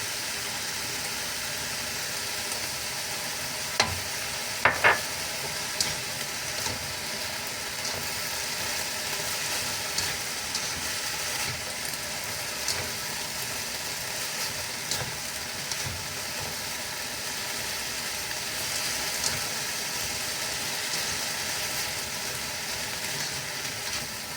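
Black mushrooms stir-fried in a pan for a simple budget home dish, giving a steady close sizzle and hiss throughout with a few brief clinks of utensil on metal.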